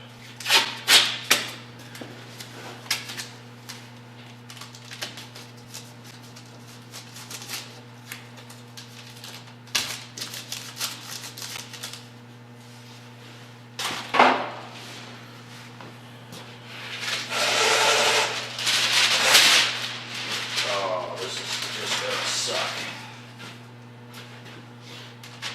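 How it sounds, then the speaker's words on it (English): A masking machine for auto-body paint prep dispenses paper and tape, with rapid clicking and rattling bursts, then a longer rough tearing and rustling stretch, all over a constant low electrical hum. "Masking machine is almost out of paper."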